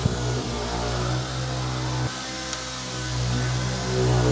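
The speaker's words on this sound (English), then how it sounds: "My guy behind me is working on the car," A car engine runs steadily in a garage while a mechanic works on it, giving a constant, loud low hum with faint revving swells and a few brief knocks, with no talking.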